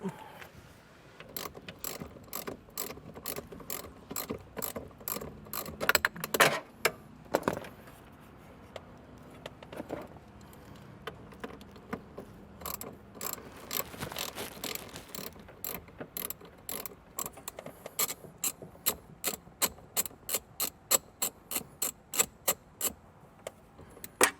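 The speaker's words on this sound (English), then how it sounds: "that is going to be a 10mm, so go ahead and grab that socket." A ratchet with a 10mm socket turns a bolt on a 2016 Ford Transit, clicking in rapid, irregular bursts of sharp ticks with short pauses between strokes, close and fairly quiet.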